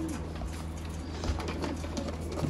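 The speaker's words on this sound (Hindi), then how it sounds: "ये भी दोस्तों भाई के लिए सियालकोटी कबूतर।" A Sialkoti pigeon gives soft, low, repeated coos against a steady background hum and faint room noise, fairly quiet and close.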